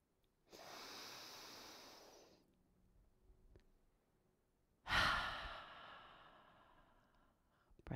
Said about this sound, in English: we're gonna take a deep breath in